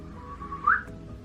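A person whistles a short single tone that swells to a brief rising chirp, close and fairly clear over a low room hum.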